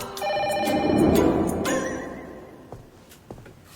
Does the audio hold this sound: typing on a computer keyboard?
no